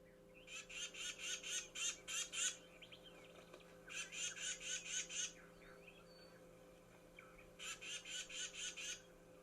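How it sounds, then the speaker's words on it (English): Tufted titmouse giving harsh, broadband mobbing calls in three quick bursts of about seven raspy notes each, close and clear against a quiet background. "Tufted titmouse mobbing calls."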